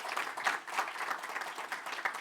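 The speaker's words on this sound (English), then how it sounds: "Let's give him a big round of applause" Applause from a meeting audience, a moderate crowd clapping in a quick, steady patter that neither builds nor fades over a couple of seconds, heard at a modest distance.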